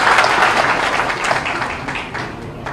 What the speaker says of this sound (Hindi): हाँ एक बार जोरदार ताली बजा देंगे।